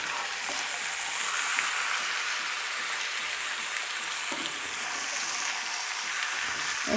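Chicken pieces fry in a pan for a spicy curry, giving a steady, fairly quiet hiss and sizzle with a few soft clinks from stirring.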